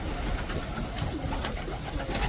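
Homing pigeons coo steadily in a loft, a soft continuous layer of birdsound with a few brief brighter bursts over a constant background hum.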